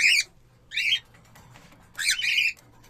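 Three loud, harsh chirping squawks from a rainbow budgerigar, close up, separated by short quiet pauses.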